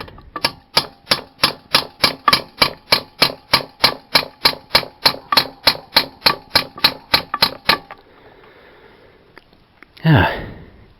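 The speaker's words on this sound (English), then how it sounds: "Just little taps, because we don't want to snap that bolt." A light hammer taps a bolt on a BMW R850R motorcycle during steering damper bush replacement: about two dozen sharp, evenly spaced metallic taps in a quick steady rhythm, close and crisp, then a pause and a brief breathy noise.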